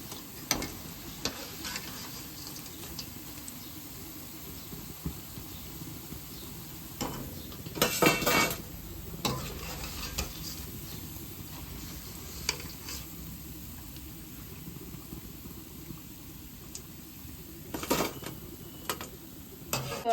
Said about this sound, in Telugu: పకోడీ అయితే వేగిపోయింది. ఇది ఈ కలర్లోకి వచ్చాక తీసేసుకోవాలి మనం.